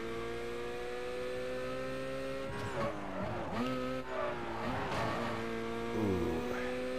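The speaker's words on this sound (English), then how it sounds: "Driving my traditional Black RX 8 with the flame tires." A black Mazda RX-8 with flame tires in Need for Speed: Carbon holds a steady engine whine, then swings through drifts with squealing tires and pitch sweeps up and down as it slides through canyon corners, with no talk.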